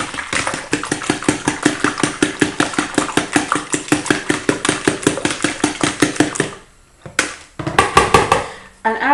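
Two eggs are whisked briskly in a bowl, a fast steady run of sharp clinking beats close by, pausing briefly near the end before a few more strokes; no talking.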